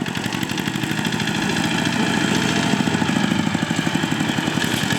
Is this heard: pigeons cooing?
no